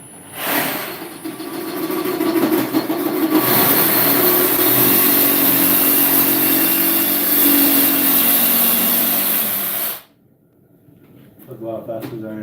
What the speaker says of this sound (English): Let me get my sawzall. This might be loud real quick.